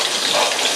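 Cold Alaskan ice water pouring in a Russian banya in Nikolaevsk, Alaska, a brief, steady, loud and close gushing splash.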